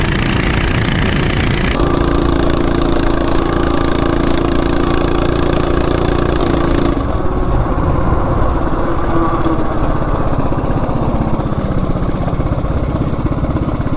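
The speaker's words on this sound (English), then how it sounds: "Yeah, the engine runs really good." A CT200U-EX mini bike fitted with a 420 big block engine runs steadily, its loud, close mid-pitched drone holding a constant note before easing slightly after a few seconds, continuous throughout.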